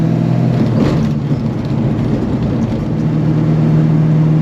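A race car engine with a Dana 60 rear axle drones loud and steady on a race track, a constant low mechanical roar with slight swells as it pulls through the gears.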